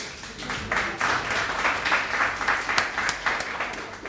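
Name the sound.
audience clapping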